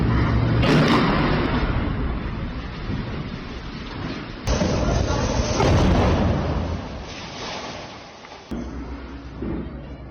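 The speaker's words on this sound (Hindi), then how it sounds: "उत्तरी गाजा के बेत लाहिया इलाके में बमबारी की गई है।" Explosions from drone bombing in Beit Lahiya, northern Gaza, heard as heavy rolling rumbles with sharp new blasts breaking in, loud and continuous over a crackling, noisy background.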